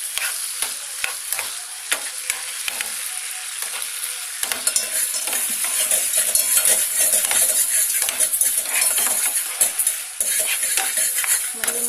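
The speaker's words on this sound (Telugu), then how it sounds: "బాగా కలుపుకోవాలి." Tomato and egg chutney with tamarind and a pinch of turmeric is stirred in a hot pan, loud continuous sizzling and frying under repeated metallic scraping and clinks of a spoon against the pan, steady throughout with no talk.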